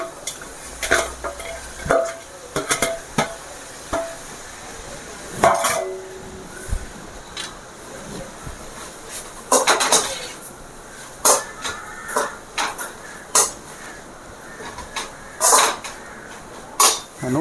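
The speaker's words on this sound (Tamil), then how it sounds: "எல்லாம் போட்டு மறுபடியும் நல்லா கலந்து விட்ருங்க" A spoon scrapes and stirs through masala noodle filling with capsicum in a pan, giving repeated clattering knocks against the metal. The strokes fall in irregular bursts up close over a faint background sizzle.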